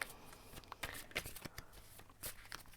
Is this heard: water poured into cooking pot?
no